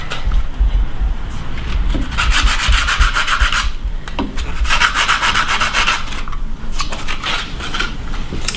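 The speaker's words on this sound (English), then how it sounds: "I like to just take a piece of sandpaper, just give it a quick rub, make sure there's no sharp edges" Sandpaper rubbed by hand over the wooden parts of a billy cart to take off sharp edges, loud close rasping strokes in uneven bursts, some quick and some longer, with no talking.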